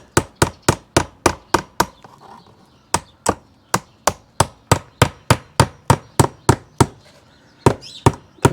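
A hammer drives a nail into a wooden window drip edge in quick, short sharp knocks, a pause near two seconds, then another even run of crisp close strikes.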